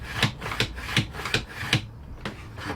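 A steel chisel drawn across a fine Sharp Edge sharpening plate to deburr it, giving a close run of about seven short, even raspy strokes in a steady rhythm with no talk.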